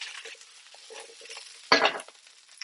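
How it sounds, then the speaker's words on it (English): Vegetables sautéing in a pot crackle faintly while a spoon stirs, with one loud scraping sweep partway through. "I'm just gonna stir this, make sure it doesn't get a film on top"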